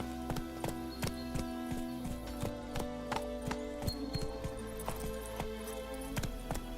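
Roach the horse's hooves clip-clop steadily in The Witcher 3, a regular hoofbeat rhythm running throughout over a constant game ambience and music bed, with an occasional faint whinny.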